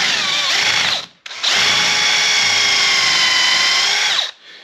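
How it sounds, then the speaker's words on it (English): A power drill whirs at high speed in two bursts while drilling and countersinking holes in black walnut, a short one then a longer steady run, close and loud, with a brief pause between. "I'm going to drill, countersink some holes down in here"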